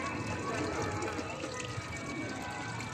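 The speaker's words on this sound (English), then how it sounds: "there's all the water going" Water drains and pours steadily from a working miniature water-powered cliff railway model, a continuous close splashing trickle at a low, even level.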